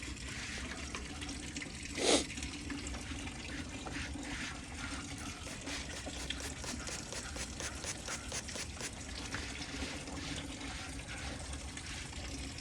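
Water runs and splashes steadily onto a Royal Enfield Bullet motorcycle during a home wash, a continuous near hiss with one brief louder splash early on and no talking.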